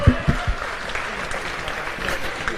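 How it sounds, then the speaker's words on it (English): A crowd applauds the Masters Division at the NCL Finals and Australian Ninja Open ninja competition, with loud continuous clapping, a few sharp thumps near the start and faint voices mixed into the din. "Another round of applause for our Masters Division"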